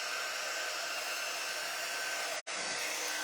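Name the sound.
blowing wet watercolor paint on foil with air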